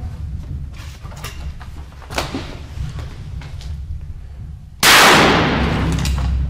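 A shotgun fires a frozen 12-gauge cartridge chilled to -15 degrees, a single loud close blast near the end after several seconds of faint clicks and handling noise, with its echo trailing off.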